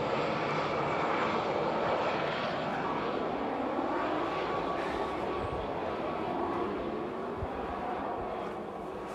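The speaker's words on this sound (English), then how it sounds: "you can't do anything here but helicopters flying past" A helicopter flies past with a continuous broad whooshing engine and rotor roar that holds steady and then fades slightly toward the end, heard from a distance without any talking.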